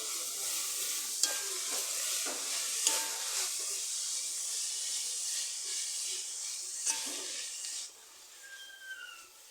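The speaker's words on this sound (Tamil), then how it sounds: "பாருங்க கீரை ஒட்டாச்சி லேசாக கிண்டி விட்டுக்கலாம்" Spinach fries in a pan for keerai sundal, a steady close sizzle and hiss with a few light clicks and scrapes as it is stirred now and then. The frying quiets slightly near the end.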